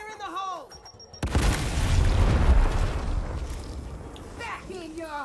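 Grenade explosion in Gears Tactics: a sudden loud boom cuts in after a brief stretch of voices and settles into a long rumbling, crackling roar that slowly tails off, with chirpy game sounds returning near the end.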